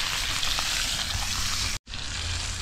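Food frying in a hot pan, a steady dense sizzle with a brief cut of silence near the end, no voices.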